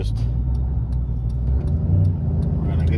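A supercharged five-speed Ford Crown Victoria pulls hard in first gear, its engine a loud, close, deep rumble that holds steady under a faint ticking.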